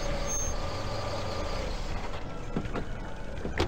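A vehicle's engine rumbles close and steady in a SpongeBob video game, with a few sharp mechanical clanks toward the end.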